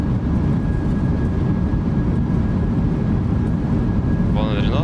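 Boeing 737-800 thrust reversers on landing in the MSFS2024 flight simulator, a steady loud broadband jet roar held throughout, with a brief high chirp near the end.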